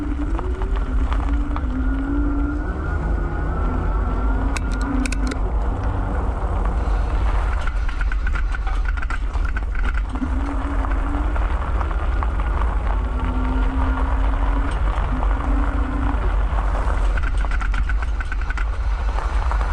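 Riding a 2020 Surface 604 Boar Hunter electric fat-tire bike with high-pressure tires: steady loud wind rush and road rumble throughout, with a faint motor whine rising and falling over the ride.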